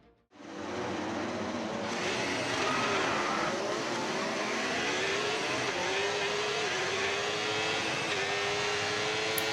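Race cars in an F1 video game roll off on the formation lap at Imola. A steady, loud engine drone rises and holds without a break.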